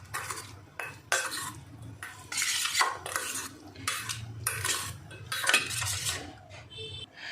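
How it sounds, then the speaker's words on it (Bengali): Paneer is mixed by hand-held utensil with oil, chili powder and turmeric in a bowl, making repeated scraping, stirring bursts with light metallic clinks, close and fairly quiet, with no talking. "এবার এটা ভালো করে মেখে নেব।"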